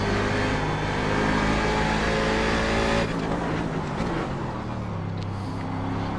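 A Daytona Prototype race car on worn tyres, driven at Montreal, roars under throttle with a steady, loud engine note that shifts pitch midway as the driver gets back on the power through a corner.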